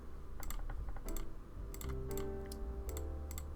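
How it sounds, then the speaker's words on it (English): Quick bursts of clicky keystrokes on a computer keyboard typing a name, heard up close in irregular clusters over a steady background hum. "So let me type in Calvin."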